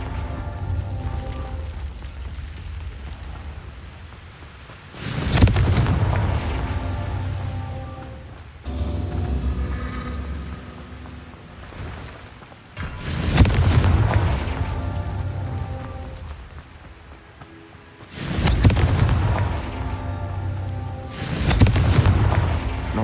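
Four loud booming blasts from the Confringo spell in Hogwarts Legacy, each a sharp wideband burst that rumbles off over a few seconds, spaced about five to eight seconds apart over a low ambient game bed.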